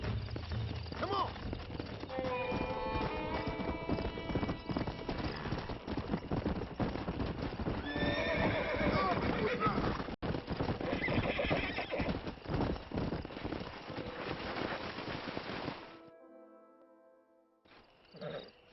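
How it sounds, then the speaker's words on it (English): Horses in the Red Dead Redemption video game, loud repeated neighs and whinnies over steady clip-clopping hooves with game music, fading out toward the end. "We got some fine horses."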